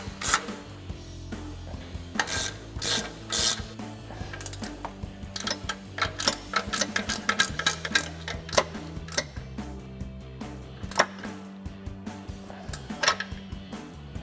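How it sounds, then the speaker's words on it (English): A 14mm ratcheting wrench cranks down the upper strut bolts of a suspension lift install, giving irregular bursts of sharp, close ratchet clicks over a steady low background hum. "Now we'll go back up top with a 14mm ratcheting wrench and fully tighten down our upper strut bolts."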